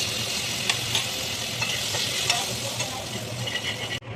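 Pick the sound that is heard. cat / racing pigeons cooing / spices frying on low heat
spices frying on low heat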